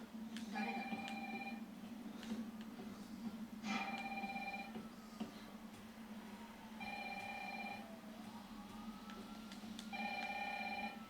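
A telephone in a video game rings in four evenly spaced bursts of a steady electronic trill, faint beneath a low hum. A person talks between the rings.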